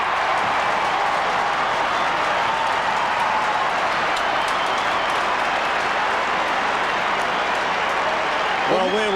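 Large football crowd at a 1997 North Melbourne versus Melbourne match roaring after a goal, a sustained, loud, dense wall of cheering and clapping with a commentator's voice faintly over it near the end.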